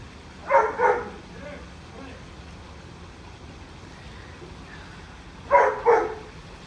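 Two short pairs of barks from dogs playing in a pool, several seconds apart, fairly distant, over a quiet watery background hum.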